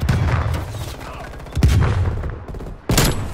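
Gunfire in Call of Duty: Black Ops Cold War on the Nuketown map, three loud close sniper shots spaced over a few seconds, each with a booming low tail, amid game noise and faint voices.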